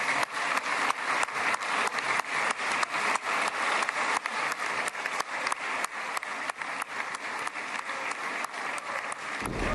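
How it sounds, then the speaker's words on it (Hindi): Sustained applause fills a parliament chamber during an honour for a visiting leader in Israel, many hands clapping steadily and densely throughout, loud and close with no talk over it. "तालियां बज रही हैं"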